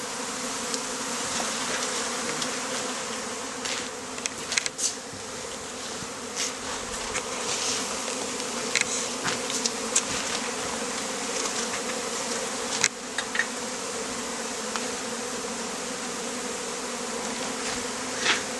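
Honey bees buzzing during a hive move, a dense continuous swarm hum with individual wingbeats darting close past at intervals, fairly quiet and with no voices.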